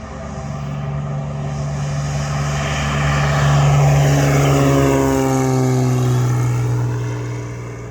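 A small single-engine propeller airplane takes off on a short roll and climbs away over Michigan's Upper Peninsula, its engine drone loud and steady, rising in pitch and then fading slightly as it gains height.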